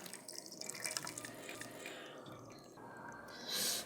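Water trickles and drips steadily from squeezed homemade paneer, close by, ending in a brief louder splash near the end.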